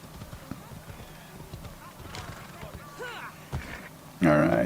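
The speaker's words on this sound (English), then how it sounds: "My horse just runs smooth the fuck over anybody when I call him." Hoofbeats of a battle horse in an open-world video game, clip-clopping steadily at a run, with game voices and shouts around it and a louder burst of noise near the end.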